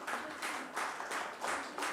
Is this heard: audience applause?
yes